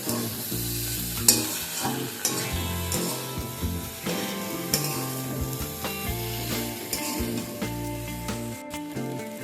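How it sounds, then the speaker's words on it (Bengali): Eggplant, mixed vegetables and spice paste stirred together in a pan for a potato-eggplant prawn curry, with steady scraping and stirring strokes over a continuous close sizzle, no voices. "এবার সমস্ত কিছু একসাথে নাড়াচাড়া করে নেব।"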